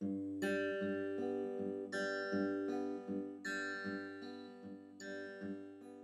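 Close, clear guitar picked with the fingers, playing the intro to a song by cycling through sustained open-string notes in a steady repeating figure, alone without any voices.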